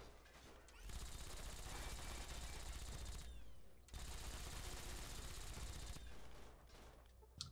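Turret gunfire in Fallout 3 comes as two long, sustained bursts of rapid automatic shots. They are loud and close and are separated by a brief pause, and a third, weaker burst follows at the end.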